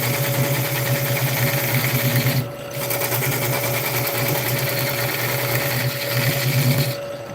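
A wood lathe spins a large burl while a freshly sharpened gouge cuts into it, making a steady, loud mechanical whir with a rhythmic chatter that dips briefly twice.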